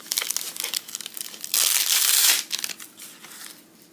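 Plastic packaging around an AK rifle parts kit crinkles and tears as it is cut open, a close, continuous rustle that swells into a loud, dense crunching burst midway, then settles back to lighter crinkling.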